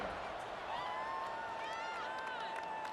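A stadium crowd in the EA Sports College Football 26 video game roars in a steady, dense wash before a kickoff, with faint rising whistles and shouts across three seconds.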